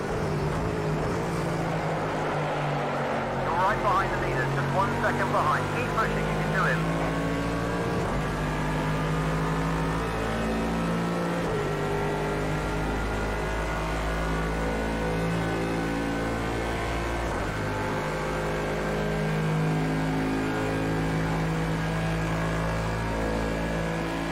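Bentley race car in Project Cars 2 at Monza, a steady engine drone held at high revs for the full stretch, with a brief rise in pitch and no talking.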